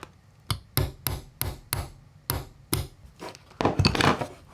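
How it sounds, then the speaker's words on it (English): Sharp tapping on the metal jackplate of a Crate Blue Voodoo guitar cabinet, roughly a dozen close, distinct knocks in an uneven rhythm, ending in a quicker cluster of hits. "We're gonna give it just a little bit more tappy tap, bud."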